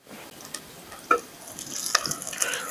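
Peas and onions frying in a pan for tomato pulav, a soft sizzle with a few light stirring clicks and scrapes, building slightly louder toward the end.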